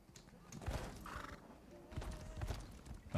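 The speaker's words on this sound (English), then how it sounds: "Let's call out Horsey" Horse hooves clip-clopping at a gallop in The Elder Scrolls Online, with a whinnying neigh around the middle, fairly close and moderately loud over game ambience and brief voice sounds.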